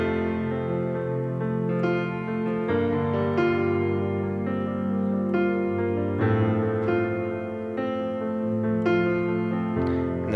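Nord Stage 2 piano playing a sustained chordal part with a subtle pad layer underneath, notes blooming and ringing continuously throughout, close and unaccompanied by speech.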